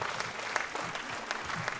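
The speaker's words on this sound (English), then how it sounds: "applause, please" Audience at a stage show claps together in a steady, moderately loud round of applause with no voices over it.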